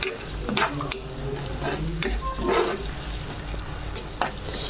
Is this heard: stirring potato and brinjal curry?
yes